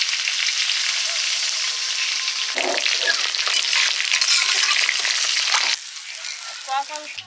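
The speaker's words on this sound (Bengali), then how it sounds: "পেঁয়াজ আদা রসুন বাটা আলু কষিয়ে নিয়েছি মশলার সাথে জল দিয়ে দিচ্ছি" Potatoes sautéed with onion, ginger and garlic paste and spices sizzle loudly in a pan as water is poured in. The hiss shifts midway, then drops noticeably quieter near the end.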